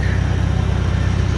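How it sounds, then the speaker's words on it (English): Case Super C tractor engine running steadily in neutral, a loud, close, even low chugging throb with a rapid regular pulse and no change in pitch. "this is a working man's tractor right here"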